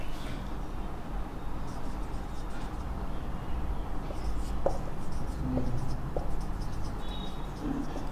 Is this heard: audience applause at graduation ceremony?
no